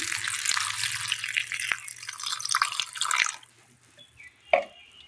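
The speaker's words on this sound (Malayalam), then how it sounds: "അല്പം വെള്ളം ഒഴിച്ചു കൊടുക്കാം" Water poured into a bowl of flattened rice makes a splashy, trickling pour for about three seconds, then stops, leaving a quiet pause and a single small splash.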